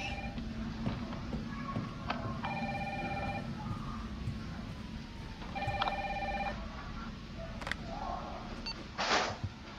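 A telephone rings in the Resident Evil 3 Remake video game, with two electronic bell-like ring bursts a few seconds apart, clear and fairly close over a low background rumble of game ambience.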